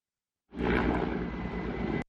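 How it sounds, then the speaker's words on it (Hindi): An Indian Air Force Mi-17 helicopter fighting a forest fire in the Pauri hills of Uttarakhand gives a loud, steady roar of engine and rotor that starts abruptly and holds for about a second and a half, with no talk. "पौड़ी के जंगलों में लगी आग को काबू पाने के लिए Mi-17 हेलीकॉप्टर को लगाया गया है"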